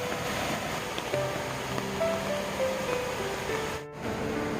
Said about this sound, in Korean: 월화탄에 오늘은 비가 내리고 있습니다